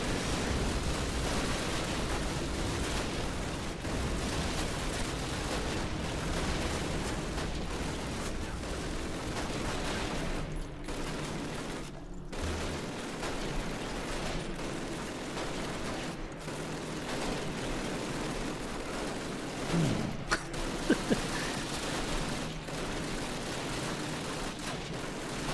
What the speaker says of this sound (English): Stray shots hitting you from afar.